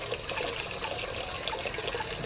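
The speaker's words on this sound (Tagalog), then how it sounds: "Ayan, may tubig na talaga, pwede na ka maghugas." Water from a manual deep well in Babatngon, Leyte, pouring steadily into a sink, a continuous close splashing gush with no talking.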